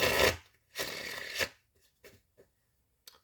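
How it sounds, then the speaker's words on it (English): Tarot cards are shuffled up close in two quick riffling bursts, followed by a few soft taps as the deck settles. "we will get one more shuffle."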